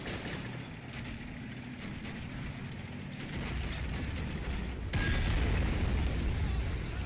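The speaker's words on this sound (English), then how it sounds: "I think he fired off his rockets and that were the few explosions on that bunker over there" Rockets strike a bunker during a beach assault in a WWII video game, producing a rumbling series of muffled blasts and bursts. The roar grows louder and denser toward the end.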